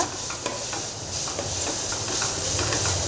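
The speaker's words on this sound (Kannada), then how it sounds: "ಈ ಥರ ಚೆನ್ನಾಗಿ ಫ್ರೈ ಆಗ್ತಾ ಇದೆಯಲ್ಲ" Carrot rice frying and being stirred in hot oil in a pan, giving a steady close sizzle and hiss with faint scraping stir sounds throughout.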